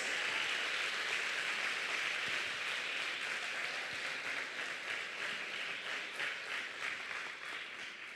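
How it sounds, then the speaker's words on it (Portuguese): Congregation at a church class applauding God, a broad, continuous patter of many clapping hands, fairly faint and distant, easing slightly toward the end. "Você pode aplaudir a Deus mais uma vez?"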